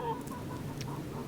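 Free-ranging chickens on a Minnesota farm cluck softly at a moderate distance, a few short calls over low outdoor background noise.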